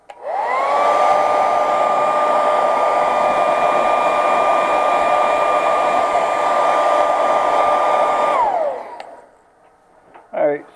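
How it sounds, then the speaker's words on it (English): A hair dryer blows loudly and steadily for several seconds while drying paint on a fishing lure, then winds down and shuts off, followed by a brief voice. "hair dryer."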